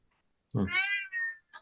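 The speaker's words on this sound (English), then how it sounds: "That's Michelle. That's our cat." A pet cat gives one drawn-out, rising-then-falling meow, followed moments later by a short, clipped second call, close and clear in a quiet room.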